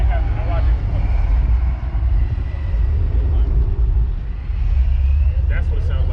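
A truck engine at a car show rumbles loudly nearby, a deep, throaty roar that swells and dips, with crowd noise and voices mixed in.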